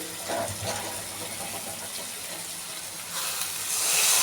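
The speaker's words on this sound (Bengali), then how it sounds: "সামান্য জল দিলাম, দিয়ে এবার কষা হোক।" Water poured into a pan of frying ground spices for a curry, a hissing, splashing sizzle close by that swells toward the end, with no voices over it.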